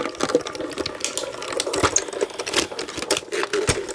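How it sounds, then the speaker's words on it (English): A die-cutting machine feeds stamped paper through its rollers, giving a steady, close grinding rumble dotted with small clicks and crackles throughout. "I'm still going to kind of hold it taut as I get it going through the machine"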